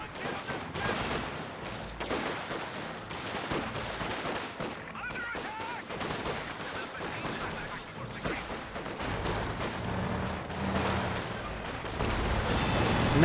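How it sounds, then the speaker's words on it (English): Rapid automatic gunfire from a quad half-track in Company of Heroes 2 rattles in dense bursts, mixed with other battle firing and booms in the game's combat, growing louder toward the end. "Quad half track firing away."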